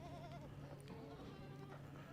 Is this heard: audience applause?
no